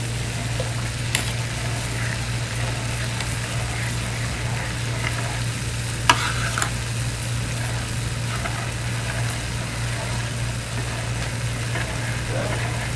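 Cheese sauce simmering gently in a pan over low heat for a Philly cheese steak, a steady soft sizzle and bubbling hiss with a constant low hum and a few faint clinks.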